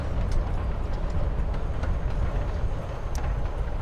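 Inside a moving train carriage in Life is Strange Before the Storm, a steady low rumble with rattling, constant and enveloping, with faint clicks now and then.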